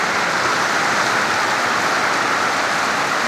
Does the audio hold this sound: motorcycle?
no